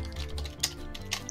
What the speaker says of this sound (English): I keep deleting it and retyping.